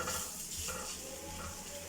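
Onions frying in a pan with crushed red chili, dried fenugreek and oregano are stirred, giving a steady close sizzle with soft scraping strokes throughout, no voices.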